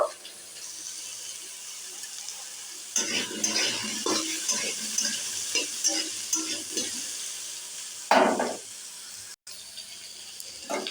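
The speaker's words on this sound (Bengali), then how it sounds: "আমি ভালো করে ভেজে নিচ্ছি এইদিকে তেল গরম হয়ে গেল মাছের পিস দেবো" Vegetables and pieces of fish frying in hot oil, a quiet background hiss that swells into a louder crackling sizzle with utensil clinks and stirring.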